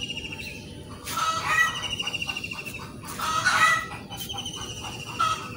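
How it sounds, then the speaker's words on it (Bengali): A rooster crows on a rooftop vegetable garden in the morning, two drawn-out crows rising over a quiet background, with softer clucks and a short call toward the end, no talking. "সকাল সকাল শুধু মোরগের গান"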